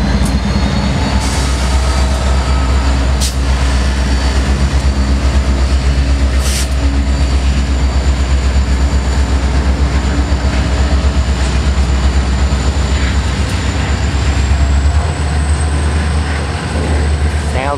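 A Norfolk Southern freight train with an SD60-2 locomotive rumbles past loudly and continuously, a dense roar of engine and rolling wheels with occasional squeals, close by and sustained.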